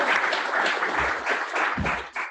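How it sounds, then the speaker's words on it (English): A crowd at a JavaScript meetup applauding, a dense wash of clapping that holds steady for a couple of seconds before tapering slightly. "A big round of applause for our host for the pizza."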